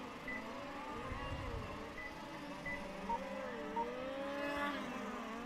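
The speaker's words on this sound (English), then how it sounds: "Coming down the main straight here, that is Marco Lindner in P3." A race car in a Rucphen race car series final drives down the main straight, its engine note droning and shifting pitch at a moderate distance, fairly faint with track ambience.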